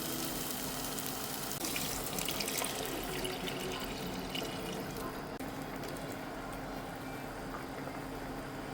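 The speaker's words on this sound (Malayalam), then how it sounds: "നമുക്ക് ഇതിലേക്ക് 1 കപ്പ് ചൂടുവെള്ളം ചേർത്ത് കൊടുക്കാം." Hot water is poured into a simmering tomato curry for squid roast, making a continuous, fairly loud rushing pour and bubbling hiss over several seconds with no talk.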